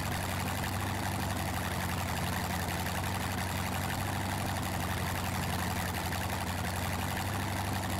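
A Dodge Charger 1969 R/T fitted with a supercharger runs in the My Summer Car video game, holding a steady, even engine drone at a constant moderate level throughout.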